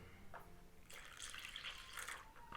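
Water poured from a tap into thin pancake batter for meat-filled crepes, a soft trickling and dripping that swells into a steadier splashing run midway, close and moderately quiet with no talking.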